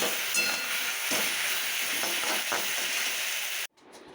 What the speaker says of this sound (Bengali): এখন দুপুরেরটা ভাজা করে নিচ্ছি